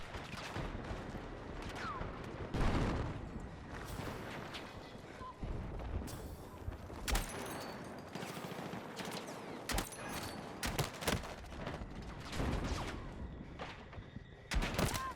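Rapid bursts of automatic gunfire and shots crackle through a Battlefield 6 match, dense and continuous, with faint voices now and then underneath.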